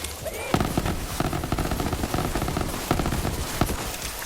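Rapid bursts of gunfire from Hornet guns in Borderlands 3, two weapons firing together in dense, overlapping volleys with sharp clustered cracks throughout, loud and close over a busy game soundscape.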